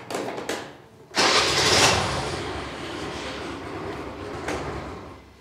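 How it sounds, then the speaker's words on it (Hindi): TVS Jupiter scooter on its main stand starting with a sudden loud burst and then settling into a steady close idle hum for several seconds. "इसको एक बार फिर से हमें स्टार्ट करना है, 5 मिनट तक आइडल करना है"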